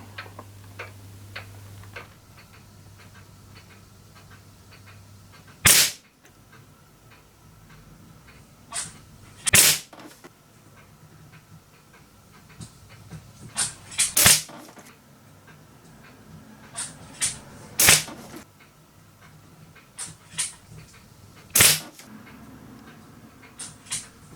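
A Haenel Model 303 break barrel spring piston air rifle firing on a range: around half a dozen sharp, loud cracks spaced several seconds apart, with faint clicks and handling noises between shots and no talking.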